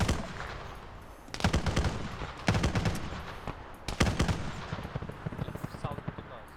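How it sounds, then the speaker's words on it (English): Enemy gunfire in a shooter game rattles through rock in rapid automatic bursts, loud and close, coming in several volleys with brief pauses between them. "They're shooting through the rock."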